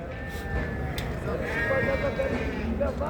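Sheep-like bleats rise and fall through the clip, several overlapping calls from lambs close by at a small-livestock market in Çorum, Turkey, with people talking underneath.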